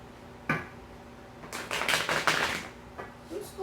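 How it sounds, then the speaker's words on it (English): Tarot cards shuffled by hand, with a sharp riffle tap, then a dense burst of quick flicking and snapping card sounds, then a softer final tap, close and clear. "Two more shuffles, Taurus,"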